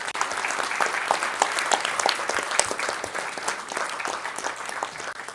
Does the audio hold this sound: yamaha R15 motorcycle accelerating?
no